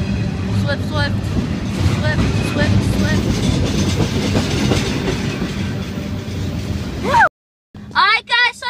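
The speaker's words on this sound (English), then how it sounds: "Outside until the train goes away, guys." Amtrak train rolling past the Greenville station platform, a steady loud rumble with clickety-clack of wheels over rail joints, close by, with voices heard briefly at the end.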